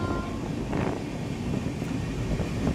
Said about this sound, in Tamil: தஞ்சாவூரிலிருந்து இந்த அயோத்தியா கண்டன் ரயில் புறப்பட்டு செல்கிறது.